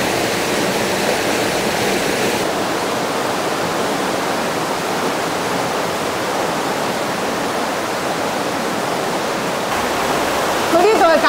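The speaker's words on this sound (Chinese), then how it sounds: "咁我哋听到一路听到好大嘅水声咧" Rushing water of an underground river runs through a cave below a wire-mesh walkway, a loud, steady, continuous roar filling the space with no voices.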